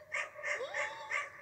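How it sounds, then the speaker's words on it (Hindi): Four quick barks from a dog outdoors at night come in an even rhythm, moderately loud against a quiet background. "तो ये आसपास आप देख सकते हैं कि कुत्ते भी कितने ज़्यादा भौंक रहे हैं।"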